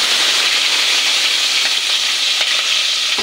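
Sliced onions and green chillies fry in a hot pan with a dense, steady, close sizzle, with faint stirring clicks now and then and no voices.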